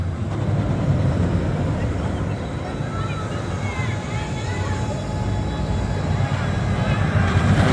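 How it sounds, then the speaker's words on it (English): The Superman the Ride steel roller coaster at Six Flags New England rolls by as a loud, sustained rumbling roar. Background voices are heard beneath it. "there goes the Superman the ride, which is considered one of the best steel coasters out there"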